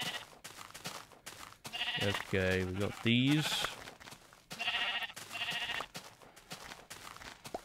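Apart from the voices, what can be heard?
sheep bleating in the video game Minecraft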